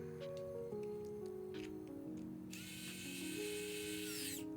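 Factory screws are driven into an RTX 4090 graphics card water block. A steady rattling hum runs throughout, then a loud, high whirring burst of a powered driver lasts about two seconds near the end.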